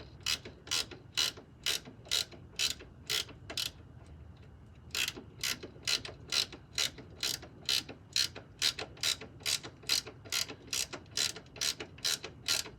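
A ratchet tightens bolts on Honda Accord coilovers in quick, evenly spaced clicking bursts, close and clear, with a short pause before the rapid ratcheting resumes.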